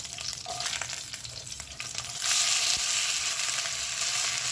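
Handvo, a Gujarati savoury batter cake, fries in oil in a pan with a steady broadband sizzle that grows louder and denser as it is flipped partway through, close and without talk.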